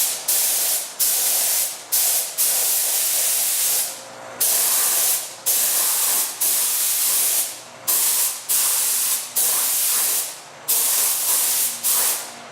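A can sprays vintage green paint onto an induction motor under restoration, loud hissing bursts of a second or two each, roughly a dozen in a row with short breaks.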